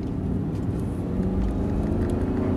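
An Audi R8 engine at full throttle roars steadily at high revs, a dense, continuous rumbling drone close by.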